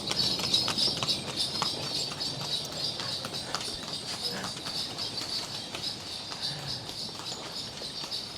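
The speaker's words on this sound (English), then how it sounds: "Still got this goddamn horse behind me" A horse's hooves clip-clop steadily on the road behind a rider circling Gili T island in Indonesia, a continuous rhythmic patter under high insect-like hiss, with no talking.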